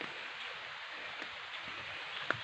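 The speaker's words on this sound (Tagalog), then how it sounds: "Umuulan na." Steady, even patter of rain falling outdoors, a soft continuous hiss with a few louder drops landing close by.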